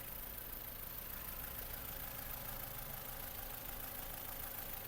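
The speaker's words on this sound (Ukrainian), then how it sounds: "Двигун працює як часи" A Ford Fusion Plus car engine idles with a steady, low rumble continuously at close range, even and unbroken, with no voices.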